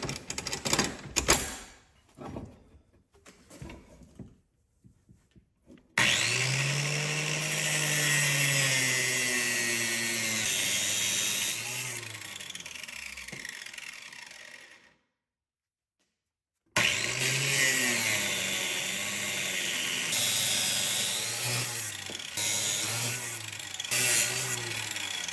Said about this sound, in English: This little saw here is just a little cheap Drill Master brand from Harbor Freight.